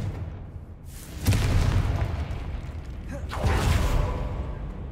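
Two Confringo spell blasts in the Hogwarts Legacy game land a couple of seconds apart, each a whooshing burst into a low rumbling boom over steady ambient noise.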